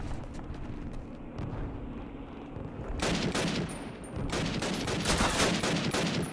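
Dense, continuous gunfire in a Call of Duty firefight, a rapid rattle of shots and blasts that grows louder and thicker about halfway through, with no voices over it.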